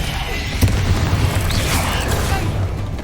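Spells being cast in the Hogwarts Legacy video game produce a dense, continuous run of booming bursts and crackling magical blasts that rumble without pause.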